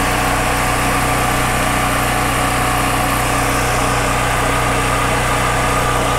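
A conventional generator drones at close range, a loud, unbroken engine hum with steady buzzing harmonics and no variation across the stretch.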